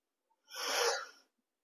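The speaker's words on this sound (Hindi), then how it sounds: "फिर गहरी सांस खींचे ऐसे" A single deep breath drawn in through the nose, breathy and close, lasting under a second in otherwise quiet surroundings.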